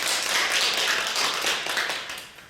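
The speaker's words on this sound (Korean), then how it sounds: "그런 저에게 응원의 박수 보내주시겠습니까?" Dense, lively applause from a lecture audience, steady clapping for a couple of seconds before tapering off slightly.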